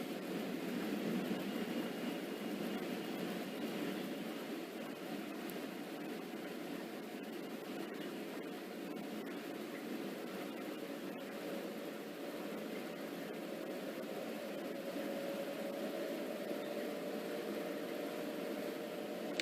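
Small DC motor on a test bench hums steadily at low volume, its whine gradually rising in pitch as the armature voltage is raised toward 6 volts.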